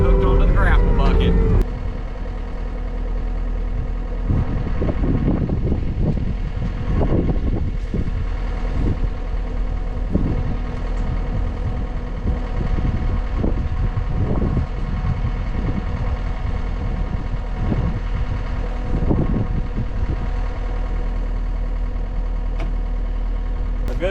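A skid steer's engine idles and runs steadily on a brush-clearing job, with a low drone throughout, short louder revving bursts, and voices talking over it.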